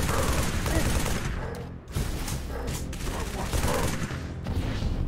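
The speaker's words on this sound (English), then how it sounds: "Because he's shooting us repeatedly." An enemy in the PC video game Halo 3: ODST fires rapid, sustained volleys that keep going almost without a break, loud and close, with voices talking underneath.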